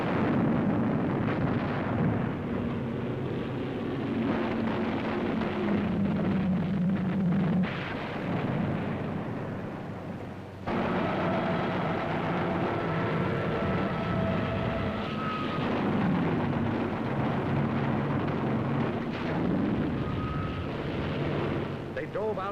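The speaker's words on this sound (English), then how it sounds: "Hundreds of land-based planes streaked low over the sea at our carrier." Roaring engines of hundreds of World War II land-based planes sweep low over the sea toward a carrier, loud and continuous, with rumbling bursts that sound like distant explosions or gunfire mixed in.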